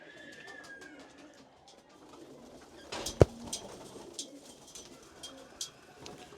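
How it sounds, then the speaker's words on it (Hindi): A yellow-topped pigeon coos softly near a loft, with a sharp knock and scattered clicks and rustling in the middle of the clip. "बढ़िया कबूतर है जी, पीला टॉप का एकदम"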